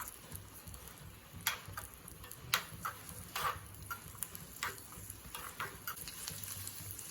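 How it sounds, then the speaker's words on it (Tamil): Vermicelli roasts in ghee with a soft, continuous sizzle broken by irregular crackles and small pops, heard up close. "செவரை வறுத்துப்போம்."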